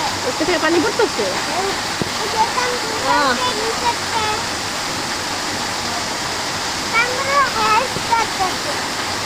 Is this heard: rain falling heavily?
yes